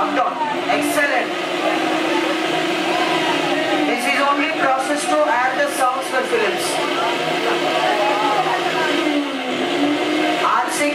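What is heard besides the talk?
mixer grinder whirring like bike racing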